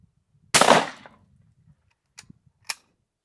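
A Mossberg 185 20 gauge shotgun fires a single sharp, loud blast that decays over about half a second, followed later by two faint clicks or knocks.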